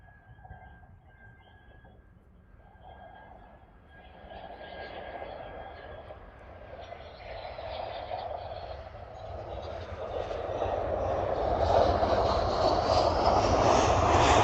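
Brussels Airlines Airbus A319 from Zurich landing on runway 25L at Brussels Airport in windy weather, engine whine and rushing roar building steadily from faint to loud as it nears, with some quiet talk.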